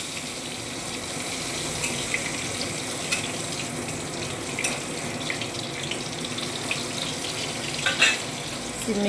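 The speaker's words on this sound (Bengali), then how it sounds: "এই দেখো কড়াইতে তেল বসিয়ে দিয়েছি। আজকে শনিবার, এই যে বেগুন ভাজা হবে।" Eggplant frying in oil in a wok, a faint steady sizzle with soft crackles and a few clinks, no talking.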